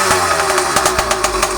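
An Avenger 85 engine revs up close and loud, a steady mechanical drone broken by sharp bursts and pops as the throttle is blipped, with no voices.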